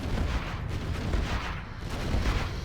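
Landmine explosions going off in a competitive real-time strategy game match, a dense rumbling boom with heavy low-end blasts that rise and swell steadily through the whole stretch.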